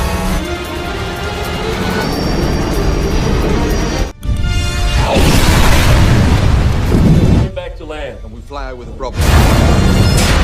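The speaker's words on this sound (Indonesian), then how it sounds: "sehingga terjadilah insiden ledakan yang cukup besar" A large explosion in an action film rumbles loud and broad as a car blows up. Bursts and crashing debris come over a narrator's voice, followed by a brief drop and another roaring surge.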